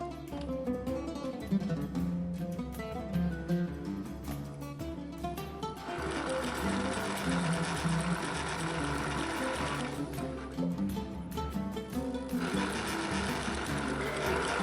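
An electric sewing machine stitches layered face mask fabric, running in a fast mechanical whirring burst that pauses and restarts several times, with soft handling noises between runs.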